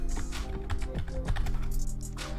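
Quick, close keystrokes clatter on a computer keyboard, a brisk irregular run of sharp taps over a short stretch with no talking.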